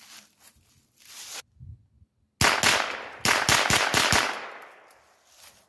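A rifle fitted with a Discovery 3-12x42mm scope fires at a bowling pin target in a rapid series of sharp, loud, close shots, each followed by a brief echo, with quieter shuffling before the first.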